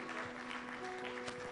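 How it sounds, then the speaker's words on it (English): Audience applause for a band at a formal strategic plan launch event, steady dense clapping throughout with a sustained tonal hum running underneath. "A big round of applause to the band."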